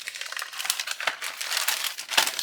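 Plastic packaging trays and bags for a 1:8 Ferrari 330 P4 model kit crinkle and crackle close up in a dense, continuous rustle with sharp crisp peaks.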